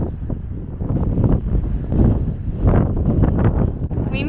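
Blustery wind near a Washington, DC monument buffets the microphone in heavy low rumbles, steady and fairly loud, with some gusting swells and faint indistinct voices underneath.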